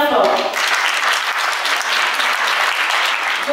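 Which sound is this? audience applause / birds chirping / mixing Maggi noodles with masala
audience applause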